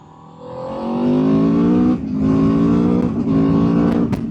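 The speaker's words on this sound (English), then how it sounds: "You really have to open the throttle and the front wheel wants to raise its little nose." An Aprilia RSV4 1100 Factory motorcycle engine revs hard under throttle, the note climbing and holding loud and close with brief dips between pulls, and no voices.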